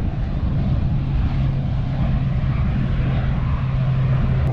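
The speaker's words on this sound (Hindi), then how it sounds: "यहाँ पर एयरपोर्ट है और ये प्लेन जा रहा है।" An airplane flies past near the airport at Diu, a steady, loud engine roar with a low droning hum that holds throughout, with no voices.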